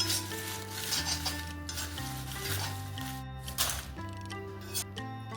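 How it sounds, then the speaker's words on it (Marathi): Bay leaves roast in about a tablespoon of hot oil in a pan for a Kolhapuri onion-garlic masala chutney, with a continuous soft sizzle and occasional stirring and utensil clinks, beneath background music. "ह्यात आहे ना आपण तमालपत्र भाजून घेऊया."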